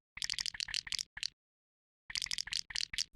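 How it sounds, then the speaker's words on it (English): Many overlapping water droplet sound effects from a video game in development: quick bursts of bright plinks and drips in two clusters, split by a second of silence. "A single pouring sound would feel way better than this droplet party."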